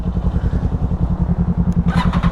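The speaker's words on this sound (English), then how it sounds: "so we're gonna roll out right now. He's got that beautiful M4 carbon fiber exhaust system on here." BMW S1000RR sport bike fitted with an M4 carbon fiber exhaust pulling away, a loud close pulsing engine throb with a rapid steady beat and rising rasp toward the end.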